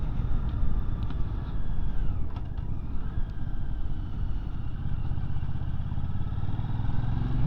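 An MBP C1002V motorcycle rounds a road corner with a steady, moderately loud engine drone and wind noise throughout, with no change in pace.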